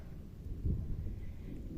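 Thunder rumbles low and steady during rain in a garden, a dull, continuous roll at moderate distance with no voices.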